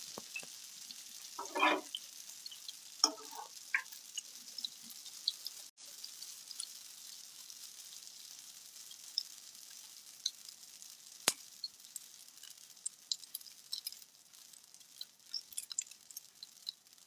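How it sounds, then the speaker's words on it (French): Sfenj, Algerian doughnut dough, fries in oil with a soft, continuous sizzle, faint and fairly far off, broken by occasional small pops and a few brief clatters. "On va cuire le pain."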